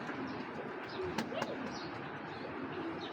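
Netherlands racing pigeons coo softly in a loft, with a few short low calls and faint chirps over a steady background hiss, fairly quiet and without talk.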